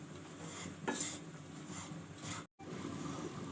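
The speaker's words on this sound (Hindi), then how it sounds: "और अब मैं इसको इसके साथ घी के साथ फ्राई कर लूँगी अच्छी तरह।" Cashews, almonds, coconut and makhana fry in ghee in a pan, giving a soft steady sizzle with a few scrapes and clinks of a stirring utensil against the metal.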